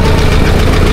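A turbocharged Mitsubishi 4D32 engine runs in a vehicle in Iloilo, a loud, steady close-up rumble with no break.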